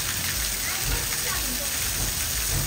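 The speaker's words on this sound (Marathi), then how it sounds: "इकडं पण पाऊस आहे, इथं पण पाऊस आहे." Heavy rain pouring down steadily just after a hailstorm in Baramati, a dense continuous hiss of water on surfaces, loud and unbroken throughout.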